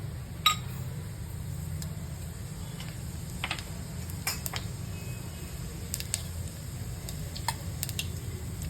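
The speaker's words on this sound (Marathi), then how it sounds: "आता तेल तापलेलं आहे जिरे आणि मोहरी एक एक चमचा घेतली" Cumin and mustard seeds sizzling in hot oil in a cooking pot, a faint low hiss with sparse, irregular sharp pops and crackles scattered across the clip.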